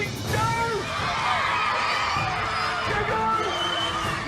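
Children on a cooking show yell and whoop as a red team and blue team race off, a busy crowd-like clamor of excited shouts and laughter filling the stretch with no clear pauses.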